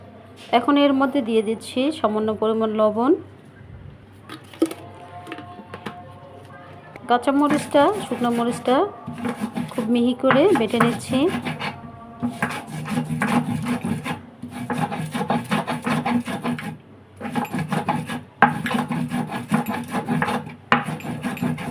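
Dried and fresh chillies ground on a grinding stone, a rhythmic rasping scrape of stone on stone repeating close by, with someone talking over much of it.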